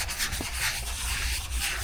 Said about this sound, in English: So I'm going to clean the area so the silicone will stick.